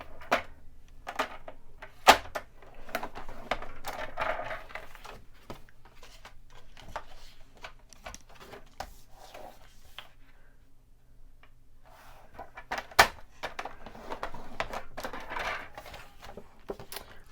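Cardstock being cut and scored on a paper trimmer: quiet scraping strokes come in two short bursts, punctuated by sharp clicks, in an otherwise hushed craft room.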